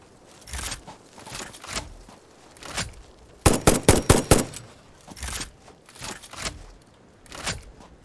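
Rifle shots in Satisfactory on a Dune Desert map: scattered single cracks, then a quick cluster of five or six loud shots in a row, followed by more spaced-out firing.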